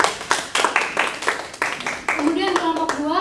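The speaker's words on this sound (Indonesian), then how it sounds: "Silakan tepuk tangan untuk kelompok 1." A classroom claps for group 1, a burst of uneven, close hand claps in quick irregular strokes over about three seconds, with children's voices mixed in.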